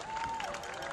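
Crowd applause in the stands at a varsity high school football game, a broad wash of clapping and faint cheering heard from a distance, steady and moderately quiet.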